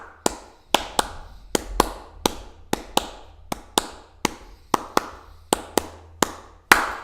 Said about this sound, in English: Let's just clap the words.